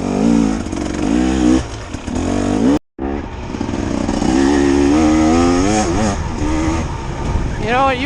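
A 2024 KTM 300 XCW two-stroke dirt bike engine revving loud and close, its pitch climbing and dropping in rapid waves, with a brief cut near the start before the buzzing roar resumes.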